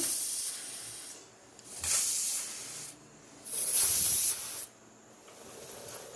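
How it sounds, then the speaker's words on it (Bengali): A pressure cooker on a gas stove vents steam in three loud hissing surges with quieter gaps between them, close by and with no talking. "গ্যাসে আমি 2 থেকে 3টে সিটি দিয়ে এটাকে নামিয়ে নেব"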